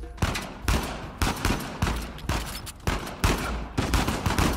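Shotgun blasts in the action game Uncharted 4 fire in a steady rhythm, about eight loud, booming shots roughly half a second apart, each with a short decaying tail and no talk over them.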